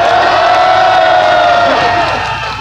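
A large crowd cheers and shouts loudly at a nighttime political rally in front of Cheong Wa Dae, with voices and sustained roars filling the air and fading slightly near the end.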